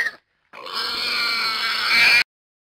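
A pig grunts and oinks continuously for nearly two seconds, a loud, close, strained call that rises in intensity toward the end, with silence before and after.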